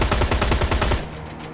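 Rapid automatic gunfire in the video game Terminator Resistance, a loud close stream of about a dozen evenly spaced shots that stops abruptly and leaves a short fading tail.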